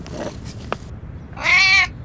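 A cat gives one clear, loud, drawn-out meow near the end, after a couple of faint rustles and ticks against quiet background noise.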